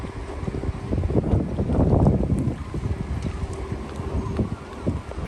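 Wind gusting on the beach at Anholt, a steady blustery rush buffeting the microphone, swelling strongest around two seconds then easing into uneven gusts.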